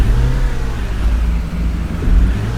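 BB 40 tour bus in the Tourist Bus Simulator game, its engine droning loud and steady as it revs and pulls away, a continuous low rumble with slight swells throughout and no talk.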